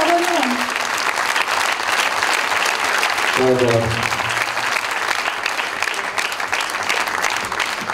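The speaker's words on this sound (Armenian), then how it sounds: "ավելի բարձր ոգևորեք ձեր ծափողություններով" Sustained applause from an audience at a live concert on Arena Live fills the whole stretch, steady and dense, while a voice speaks over it briefly near the start and again midway.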